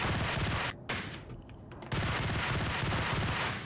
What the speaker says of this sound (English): Who is this guy shooting at me?